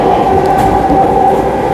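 Vande Bharat train at Khari railway station, a steady close rumble and hum of rolling stock with a faint tonal whine and no talking.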